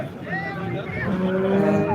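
A cow moos in long, drawn-out calls at a busy village cattle market, with other cattle lowing nearby and faint crowd murmur behind.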